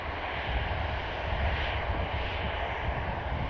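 An EasyJet airliner arrived from Belfast rolls along the runway and turns off onto a rapid exit taxiway at Manchester Airport, its engines giving a steady, broad roar that holds loud and even throughout with no voices.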